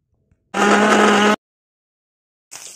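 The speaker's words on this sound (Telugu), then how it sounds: "ఒక వేపుకున్న గోంగూరని ఇప్పుడు మనం మిక్సీ పట్టుకుందాం" A mixer grinder whirs loudly for under a second while blending fried gongura leaves, then stops; a brief second burst of the motor starts near the end.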